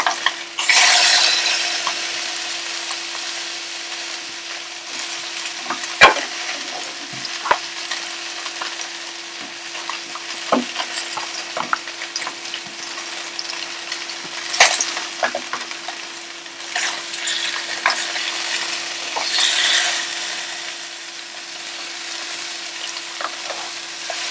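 Salmon pieces sizzling steadily in a pan, a continuous bright frying hiss with scattered clicks and scrapes as the pieces are turned to cook on all sides; no talking.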